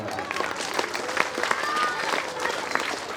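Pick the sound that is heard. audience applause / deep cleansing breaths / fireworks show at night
audience applause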